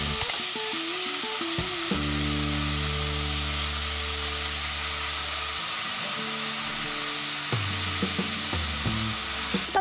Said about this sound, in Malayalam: എന്നിട്ട് ജസ്റ്റ് ഇതേ ഇങ്ങനെ നന്നായിട്ടൊന്ന് ഇതെല്ലാം കൂടെ ഒന്ന് ഇളക്കി കൊടുക്കും